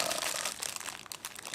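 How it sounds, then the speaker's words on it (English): Crinkling of a thin plastic bag from the packaging of a Spyderco Paramilitary 2 folding knife, packed with a desiccant sachet; a steady, close run of dense rustling and crackling throughout, with no talking. "it comes in a plastic bag with some desiccant"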